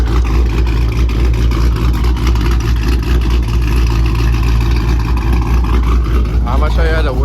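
A car engine runs steadily at idle, a constant low rumble that neither rises nor falls for the whole stretch.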